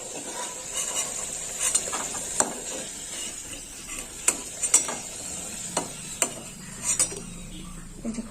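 Potato pieces frying in oil in a home kitchen pan, with a steady crackling sizzle broken by repeated clinks and scrapes of a utensil turning the pieces, close and fairly loud, no talking.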